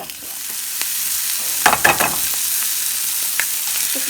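Sausage frying in a hot pan, a continuous loud sizzle broken by a short burst of scraping and clattering as a spatula chops and breaks up the meat.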